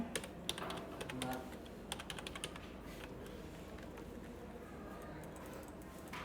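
Keys clatter on a computer keyboard during a flyer layout job, a quick uneven run of close taps that bunch in the first two seconds and then thin to sparse clicks over a low, steady room hum.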